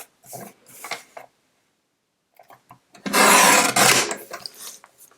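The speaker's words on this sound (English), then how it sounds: "I need to trim the sides of the card in a little bit because it's too wide to fit on the card base." Card stock is trimmed along its sides for a handmade greeting card: a few soft, close rustles and taps, then one loud, rasping cutting stroke lasting about a second, followed by lighter handling sounds.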